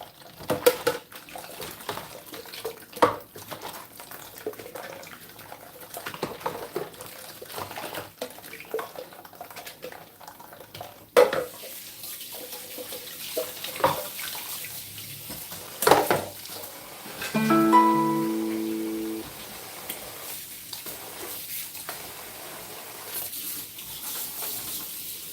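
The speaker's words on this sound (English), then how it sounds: "I'm just rinsing out the top of the sink tray so I can place the clean ones in" Water runs from a tap while a sink tray is rinsed, steady splashing and gushing with clinks and knocks of dishes at close range, a brief louder rinse near the end.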